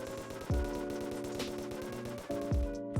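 In the video game Terraria, the Gatligator gun fires in rapid sustained bursts, with a dense mechanical rattle of quick shots and two sharper swooping impacts cutting through, loud and close with no talk.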